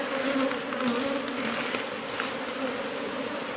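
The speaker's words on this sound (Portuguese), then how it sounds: "Aqui, ó, o tanto de abelha" A dense swarm of bees buzzes around a wooden hive box after a capture from a tree trunk, a continuous, close, steady droning hum with no pauses or voices.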